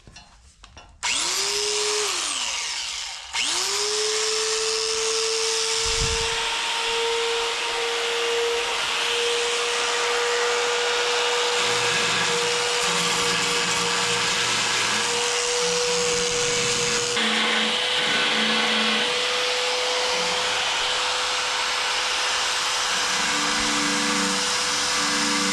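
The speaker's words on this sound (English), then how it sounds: "so I'll try using the mini belt sander." A mini belt sander grinds steadily against rusty car sheet metal during body repair, a loud continuous whine with a sustained pitch that runs nearly the whole time after a brief start-up and short pause, varying slightly as pressure shifts.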